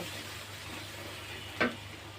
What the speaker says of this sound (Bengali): ভালোভাবে কষাই নেব।